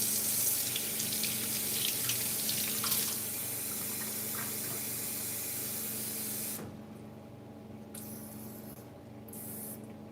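Tap water gushes steadily into a jar holding soil, a loud, continuous hissing splash that shifts slightly in tone as the jar fills.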